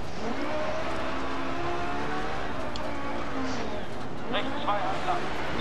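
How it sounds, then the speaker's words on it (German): A rally car in the racing game Dirt Rally accelerates with a loud, continuous engine drone that climbs and shifts in pitch, with tyre and gravel noise near the end. "Gib mal Gas, Philipp, gib mal Gas, dann kommt der Wagen auch besser rum."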